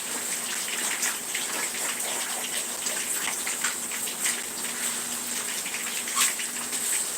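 Water runs steadily from a kitchen tap while food is rinsed during home meal prep, a constant splashing hiss with small irregular spatters, close and unbroken with no talking.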